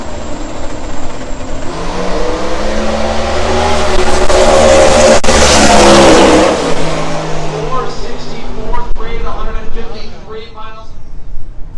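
A drag racing Mustang with a big block Chevy engine runs against a turbo car, its loud engine roar swelling and sustaining as it accelerates down the strip, with a commentator talking over it.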